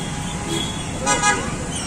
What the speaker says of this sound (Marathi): ट्रॅफिक बघा केवढी झाली आता